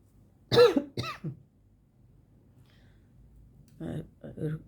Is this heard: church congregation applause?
no